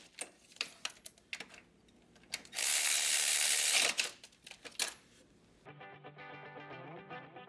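Ratchet clicks and metallic clatter while bolts are tightened during reassembly of a VW Jetta TDI manual transmission clutch and flywheel, with a loud sustained burst midway and a steady mechanical tone near the end.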